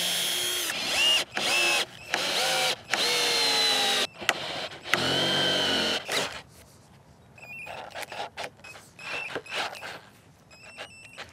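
A medium-sized cordless drill drives large Torx screws into timber while building a greenhouse on an allotment. The motor whirs in repeated bursts that bog down under load, then gives way to lighter clicks and short ratcheting sounds.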